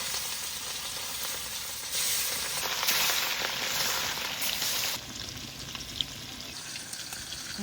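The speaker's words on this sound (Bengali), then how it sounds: "কড়াই গরম হয়ে গেছে, মাছ ভাজার জন্য সর্ষের তেল দিয়ে দেবো।" Pieces of a large desi katla fish from the Ajay river fry in hot mustard oil in a wok, giving a continuous crackling sizzle that swells louder for a few seconds, then settles back.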